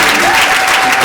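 Church congregation applauding at a wedding service, a dense, steady wash of clapping filling the whole moment at close range with no pauses.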